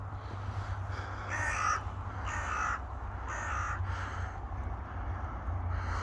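A crow on the North Wales coast between Colwyn Bay and the Rainbow Bridge gives four harsh caws in a slow, evenly spaced series, moderately near, over a steady low wind rumble with no talking.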